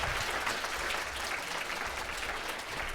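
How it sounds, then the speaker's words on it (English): Steady, dense applause from a conference audience after a strategic project presentation, filling the room at an even level for the full stretch. "can I get a big round of applause?"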